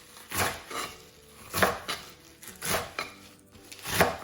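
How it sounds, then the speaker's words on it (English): A knife chops chard stalks into bite-sized pieces on a cutting board, giving a handful of separate sharp thuds at an uneven pace, close by and fairly quiet with no talking. "I'm just chopping off the stalks because they take slightly longer to cook, and I'm just going to chop it in bite-sized pieces"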